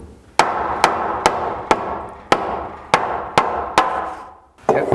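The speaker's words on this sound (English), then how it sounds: "Let me get the hammer out, hold on." Hammer strikes drive a board into place to mount a bath and garage vent fan, eight sharp evenly spaced blows ringing close and loud, with a last hit at the end.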